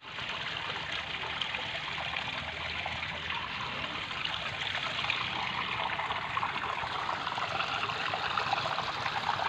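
Water from an artificial waterfall in a village park pours steadily into a pond, making a continuous close hiss and splash with no voices.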